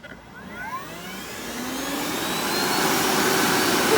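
A repaired Kobalt 80V cordless leaf blower, fixed after a broken power button, runs with a steady whooshing roar that swells louder over a few seconds and holds at full airflow, heard alone and close.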